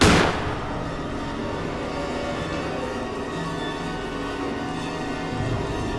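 A single sharp gunshot from the Granny horror video game bursts loud at the very start and decays quickly into a steady low background hum that runs for several seconds.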